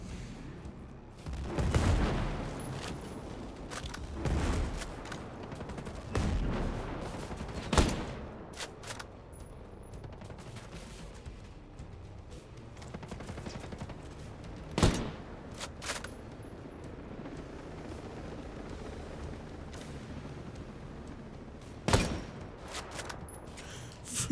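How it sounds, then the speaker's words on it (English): Sniper rifle shots in the video game Ghost Recon Breakpoint, several sharp, booming cracks spread far apart over a low, quiet background, each ringing out briefly before it fades. "Three sniper shots."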